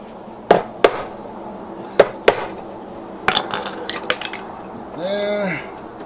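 A chisel cuts into a wall to rough in an outdoor electrical outlet: sharp, loud strikes in pairs, then a cluster of scraping, clinking hits, and a brief squeaky scrape at the end, close by with no speech.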